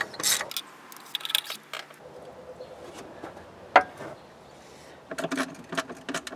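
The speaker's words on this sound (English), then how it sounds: "I'm going to be taking out my spark plugs." A ratchet working spark plugs out of a Honda Accord LX 2.3L engine gives close, scattered mechanical clicks and clacks, with a cluster of quick ratcheting at the start and again near the end.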